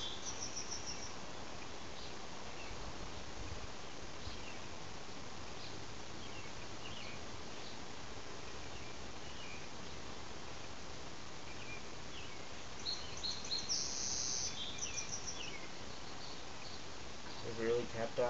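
Honeybees are active in an opened top bar hive, giving a low, steady, dense buzzing hum throughout, with a few soft rustles and brighter chirps near the end.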